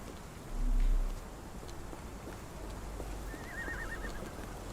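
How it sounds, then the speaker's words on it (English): Steady rainfall in a video game hisses evenly throughout, with a faint horse-like whinny and light clopping sounds in the background; no one speaks. "This dreary rain is making a miserable day even worse."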